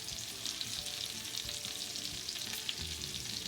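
Chopped vegetables and onions for fried cabbage fry steadily in a pan, a continuous close sizzle with soft stirring scrapes throughout and no talking.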